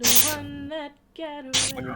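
A person sneezes loudly amid sung or spoken vocal lines during a Dungeons & Dragons tabletop game session, with a second sharp burst moments later.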